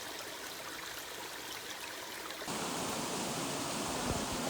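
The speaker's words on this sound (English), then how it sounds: "One more creek to ford at least" Steady rushing creek water flows continuously on a hiking trail in Cades Cove, growing louder and fuller partway through, with no voices.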